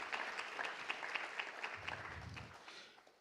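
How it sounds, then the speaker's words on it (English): Audience applause at a youth network launch event, a faint, distant wash of many hands clapping at once that holds steady and then tapers off, with no voices over it. "So please give a round of applause"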